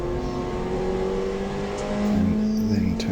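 Nissan Sentra race car at a circuit in Taupo accelerating hard out of a second-gear corner, a steady engine drone building under narration, with a rising note near the end.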